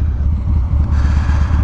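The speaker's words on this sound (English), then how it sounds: "My bike is idling a little hard right now." A motorcycle fitted with Powervision autotune idles hard and rough nearby, a loud, throbbing low engine rumble with uneven pulses and no talking.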